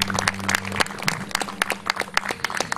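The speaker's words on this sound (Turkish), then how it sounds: "yönetim kurulunu büyük bir alkışla size alkışa davet ediyorum" A room of Lions club members applauds the board of directors at a handover ceremony, brisk crowd clapping with sharp individual claps standing out.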